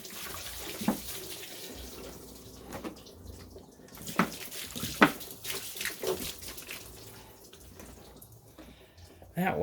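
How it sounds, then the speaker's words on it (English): Water splashes and trickles over a 2004 Oldsmobile Alero V6 engine during a water pump replacement, running into a catch bucket with uneven pours and drips, fairly faint and close, with occasional clanks. "Just gonna dump some water down here to wash everything away."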